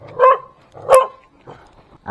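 Two sharp, close dog barks in quick succession at a parking area by Colgante River in San Lorenzo Ruiz, followed by a fainter third bark.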